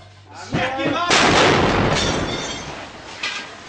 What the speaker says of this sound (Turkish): Olduğumuz yere bir bomba düştü şu an.